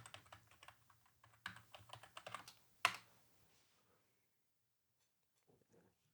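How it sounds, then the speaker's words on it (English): Typing a password on a computer keyboard during a PC rebuild, heard as quiet, close clicky keystrokes in quick bursts with a sharp final key tap, then near silence with a few faint taps at the end. "so I have to type in my password"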